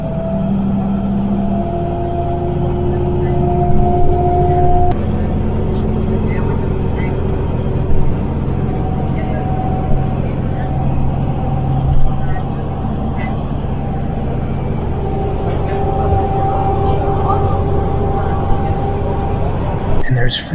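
Inside a moving bus, a steady loud engine and road drone with a low tonal hum that shifts pitch as it changes speed, and a person talking over it throughout.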